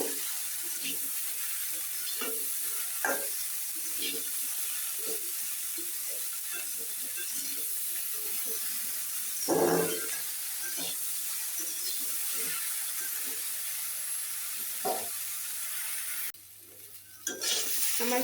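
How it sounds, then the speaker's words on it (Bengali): Vegetables sautéing with turmeric, chili powder and green chili are stirred in a pan, making a continuous low sizzle with scattered scraping strokes and one louder clatter partway through. "এখানে এই সব উপকরণ একসাথে ভালোভাবে মিশিয়ে নিব, মিশিয়ে সবজিটা একটু কষিয়ে নিব।"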